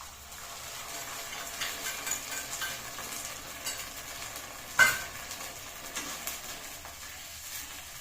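Sauce mixed from chili sauce, red chili sauce, tomato ketchup and cornflour sizzles faintly in a hot pan, with soft scraping stirs and one sharp utensil clink midway.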